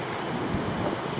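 Strong storm wind roars steadily outdoors near a pool, a dense, continuous rush with buffeting gusts and no voices.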